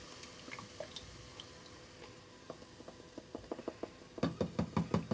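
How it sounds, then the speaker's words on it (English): Passata glugs and drips from its container into a pan, a faint run of soft wet knocks that grows into a quicker, louder rhythmic pulse near the end. "Okay, so I'm going to pour in our passata."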